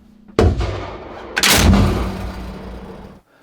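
Two loud bursts of cannon fire from a PBV 302 armoured personnel carrier's rapid-fire autocannon boom close by, each followed by a long rumbling echo that fades away.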